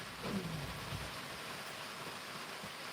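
A thunderstorm at an off-grid bushcraft camp, with steady broadband rain hiss and a low rumble of thunder early on, moderately loud and continuous with no talk.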